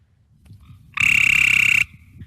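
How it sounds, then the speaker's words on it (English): A Cope's gray tree frog in an Ohio wetland gives one short, loud, buzzy trill lasting under a second, close by against a quiet background. "So there's the Cope's gray tree frog."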